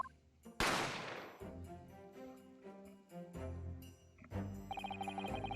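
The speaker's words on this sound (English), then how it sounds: "I didn't have time to think about where the sound of the gunshot had come from." A single loud gunshot sound effect in a detective adventure game, a sharp blast with a long decaying tail, set against background game music with no talking.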